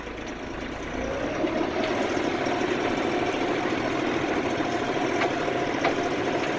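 A Mahindra 6075 tractor engine idles steadily in winter, a low continuous rumble that picks up slightly after the first second and then holds even, with no talking.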